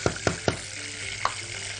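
Garlic frying in ghee for a fatta topping, a steady close sizzle with a few sharp clicks and stirring knocks near the start and one more about a second later.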